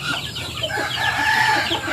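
A chicken clucking close by at a rural spot where rabbits are fed napier grass, a run of rising, drawn-out clucks over a steady outdoor background.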